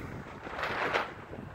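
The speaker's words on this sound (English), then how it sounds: "It's windy." Gusty wind blows across open ground in Windy, Oklahoma, a soft broadband rush that swells briefly and then eases, with no voices.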